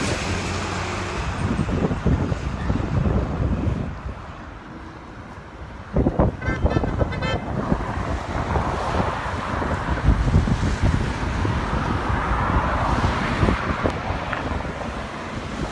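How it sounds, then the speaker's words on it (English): Traffic rushes past amid gusty wind noise, with a brief burst of car horn toots partway through, heard from the roadside. "I'm getting honks"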